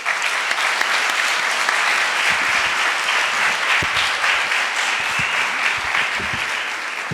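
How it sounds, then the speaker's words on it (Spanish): A lecture audience at the Universidad del Mar gives Dr. David Jorge a sustained, dense round of applause, a steady wash of many hands clapping at even loudness throughout, with a few low thumps underneath. "les pido por favor recibamos con un fuerte aplauso al doctor David Jorge"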